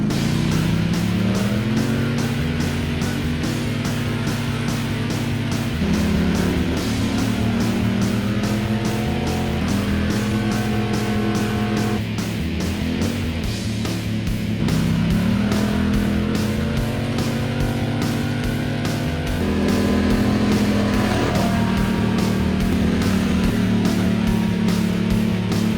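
A Polaris Sportsman XP 1000 ATV engine revs hard on a trail, its loud pitch climbing and falling through repeated throttle bursts and gear changes, sustained and close throughout.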